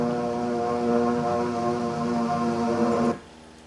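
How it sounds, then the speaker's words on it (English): A steady, humming engine drone of approaching propeller airplanes on an early morning in Hawaii, 1941, continuous and level before cutting off abruptly near the end. "the drone of planes was faintly heard"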